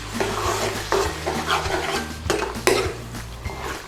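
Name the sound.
stirring fried onions into chicken dopiaza in a pan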